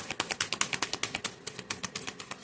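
Tarot cards being shuffled by hand, a steady run of quick, crisp papery taps and slaps repeating several times per second, close and fairly quiet.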